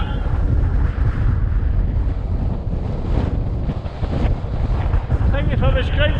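Strong wind buffets a hill summit shelter in the Ochil Hills, a steady loud roar of gusts across the microphone throughout.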